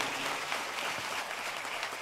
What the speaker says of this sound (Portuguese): uma salva de palmas bem forte no nosso meio